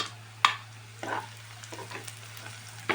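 Small cut carrot pieces fry in a pan for masala pasta, a faint low sizzle broken by a few sharp clinks and scrapes of stirring.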